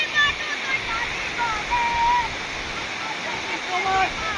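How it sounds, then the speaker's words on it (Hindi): Water overflowing at Tangankana waterfall gives a continuous, broad rushing roar that stays steady throughout, with a few faint high whistling tones above it. "पानी ओवरफ्लो हो जाउछे सब देखन देखो साइड रे भी"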